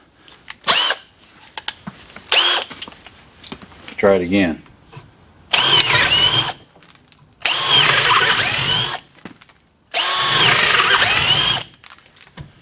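A KIMO T-20 cordless drill driver, set to drill mode with a freshly sharpened bit, bores into a 2x6 in three loud sustained whirring bursts of a few seconds each, separated by pauses with brief speech between them.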